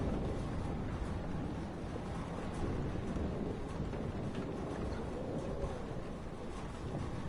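A thunderstorm rages in the Life is Strange Remaster video game, a constant roaring wash of heavy rain and wind with low rumbling thunder rolling underneath, steady and enveloping with no voices.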